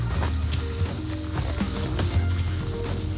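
Horse hooves clop steadily on a backcountry trail in a walking rhythm, close and clear, over a low rustling background.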